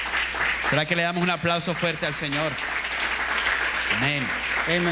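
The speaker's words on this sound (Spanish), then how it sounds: "¿Será que le damos un aplauso fuerte al Señor?" A church congregation applauds during a bilingual worship service, with a steady wash of clapping running underneath voices that speak over it.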